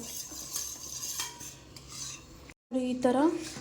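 A spoon scrapes and stirs a boiling milk and custard mixture around a metal pan in steady rubbing strokes, close by, followed by a brief pause and a voice speaking.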